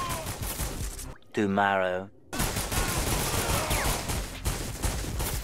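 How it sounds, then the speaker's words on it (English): Heavy rapid gunfire in the video game 50 Cent: Bulletproof rattles loud and near almost throughout, broken by a brief spoken word and a short pause. "He getting shot up."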